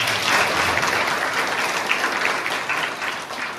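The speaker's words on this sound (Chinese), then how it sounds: "那我们是不是以掌声来感谢他们？" Audience applause breaks out to thank donors at a scholarship donation ceremony, a steady dense clapping that holds at full strength for a few seconds with no talking over it.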